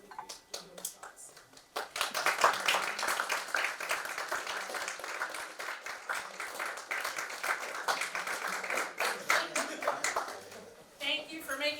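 An audience at an event applauds parents and family members, with dense, sustained clapping for about ten seconds that swells and then fades. A voice is heard at the start and at the end.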